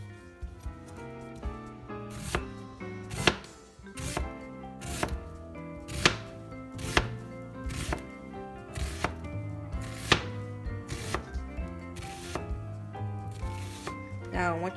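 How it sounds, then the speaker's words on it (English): Rapid, even knife strokes on a cutting board as a vegetable is cut into thin julienne slices, the chopping steady and close, with a person talking over it throughout. "I'm going to teach you guys a basic julienne cut"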